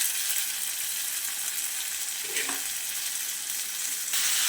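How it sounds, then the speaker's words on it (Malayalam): Beef sautés with chili powder in a pan, giving a steady, close sizzle with a brief stirring scrape in the middle and no talking. "നമ്മുടെ ബീഫ് അതിലേക്ക് ഇട്ട് നന്നായിട്ട് വഴറ്റുക കേട്ടോ."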